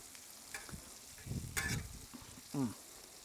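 Bacon and burgers frying on a Blackstone griddle, a low sizzle broken by a few short bursts of scraping and spatula clatter, close and moderately loud, with no voices.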